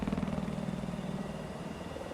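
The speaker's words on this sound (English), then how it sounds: "You see Delta Force's helicopter back in the air." A helicopter flies in the video game Battlefield 4, giving a steady, loud rotor thrum with a fast pulsing beat that holds throughout.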